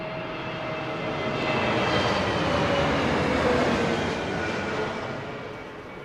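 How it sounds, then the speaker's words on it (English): A Boeing 787 Dreamliner jet departing London Heathrow Airport gives a loud, steady broadband engine roar that swells through the middle and eases slightly toward the end, with no voices. "Departure for that Dreamliner."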